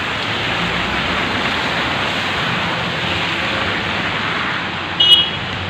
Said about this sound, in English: But the rain is almost over.